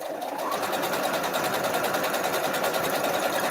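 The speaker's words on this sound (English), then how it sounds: "it's like you can only sew so fast" A sewing machine stitches a quilt seam in one continuous, fast, evenly pulsing run, close and fairly loud, with a rapid needle clatter throughout and no voices.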